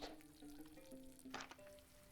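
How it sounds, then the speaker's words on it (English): Food sizzles in hot oil in the cooking game Venba, a quiet steady frying hiss with a brief louder crackle near the middle and faint tonal game sounds over it. "Frying."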